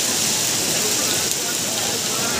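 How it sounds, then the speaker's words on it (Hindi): Heavy rain pours down at the hilltop Chamunda Mata temple in Dewas, a loud, dense, unbroken hiss close by that carries steadily from start to end. "भारी बारिश का आनंद उठाते हुए"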